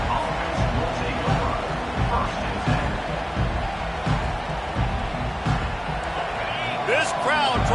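Football stadium crowd at a Kansas State home game, a steady dense roar of thousands of fans filling the space, with occasional swells and whistles rising above the broad wash of noise.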